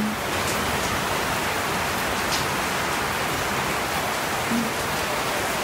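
Steady monsoon rain falls in Lapu-Lapu City, Cebu, a dense even hiss of rain on surfaces lasting the whole clip with no breaks.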